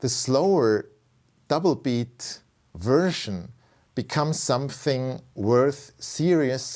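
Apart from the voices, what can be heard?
None of the usual background noises is heard.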